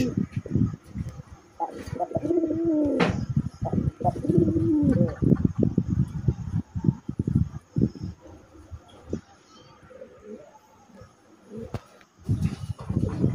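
A strong male pigeon, a desi colored raj golla breed, coos repeatedly in close, throaty rolling calls. The calls run over steady background noise and fade out toward the end.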